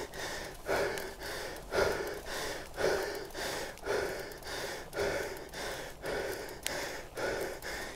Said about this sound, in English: You might be able to tell from my breathing. It's getting harder.